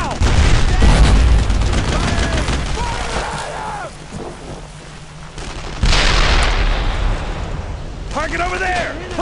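Wartime gunfire in the Brothers in Arms: Road to Hill 30 game, loud and sustained with heavy booming bursts, rattling volleys and a strong blast near the middle, under shouted voices.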